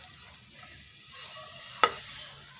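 Mashed dates fry in a pan for sugar-free dry fruit laddus, a faint steady sizzle with soft stirring and one sharp scrape or clink near the end.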